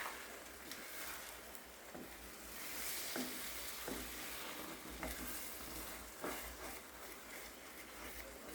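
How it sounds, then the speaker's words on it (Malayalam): Eggs frying in a pan as they are stirred, a steady sizzle broken by repeated scraping strokes of the spoon at irregular intervals, close and moderately loud with no voices. "രണ്ട് സെക്കൻഡ് വെയിറ്റ് ചെയ്തിട്ട് വേണം മുട്ട ഇളക്കി കൊടുക്കാൻ കേട്ടോ."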